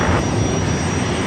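A jet airliner taking off from Los Angeles International Airport, a loud, steady engine roar with a broadband rumble and a thin high whine, heard briefly and without voices.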